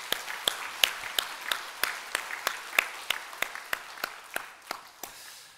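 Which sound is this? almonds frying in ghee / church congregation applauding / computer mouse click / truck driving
church congregation applauding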